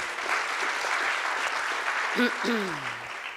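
Steady applause from an audience fills the clip, with a brief voice rising near the end.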